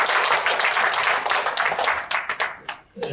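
A ceremony audience at a Gwangju launch event for the 160th anniversary of Koryo-saram Korean migration applauds with dense, loud clapping that thins into scattered claps before stopping.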